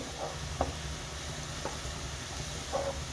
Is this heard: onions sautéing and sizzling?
yes